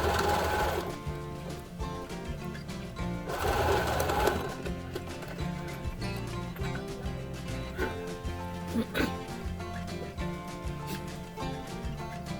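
A sewing machine stitches a fabric face mask with rapid, even needle chatter in steady runs, broken by brief louder bursts and short pauses.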